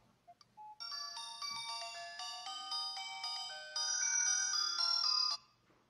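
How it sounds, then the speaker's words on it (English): An Aplus GV18 smartwatch phone rings once Bluetooth on the paired phone is switched off: a few short beeps, then a loud, steady melodic electronic ringtone with stepping notes that plays alone for several seconds before stopping. "the watch will start ringing and vibrating"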